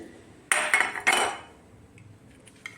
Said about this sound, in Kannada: ಒಂದು ಪಾತ್ರೆಗೆ ಹಾಕ್ಕೊಂಡು ಕ್ಲೀನಾಗಿ ತೊಳ್ಕೊಳ್ತೀನಿ ಮೊದಲಿಗೆ